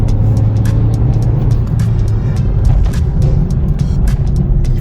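A Renault Mégane III R.S. engine roars hard and close at full throttle under a steady low drone, with sharp repeated clicks and rattles over the top and no voices.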